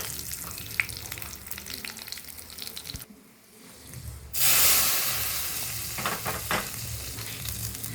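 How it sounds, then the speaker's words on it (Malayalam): Mustard seeds, green chilli and curry leaves hit hot oil in a pan, giving a loud burst of crackling sizzle that settles into a steady spitting fry, with a brief quieter gap before the ingredients go in. "കടുക്, പച്ചമുളക്,"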